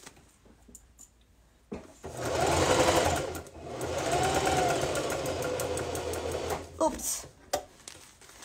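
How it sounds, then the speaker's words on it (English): Sewing machine stitching closed the end of a scrap yarn bowl, a loud steady whir in two long runs of several seconds each, separated by a brief pause and followed by a few short mechanical clicks. "And I'm gonna sew and close off the end."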